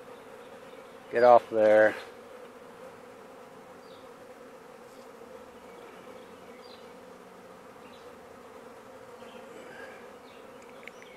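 A honey bee swarm gives a faint, steady buzzing hum for the whole stretch, with someone speaking briefly near the start.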